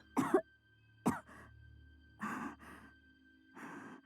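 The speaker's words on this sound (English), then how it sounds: "Milo was feverish as he panted heavily between pain coughs" A feverish boy in Virche Evermore coughs in pained bursts: two sharp coughs followed by several weaker, breathy coughs and wheezes, close and alone with no speech.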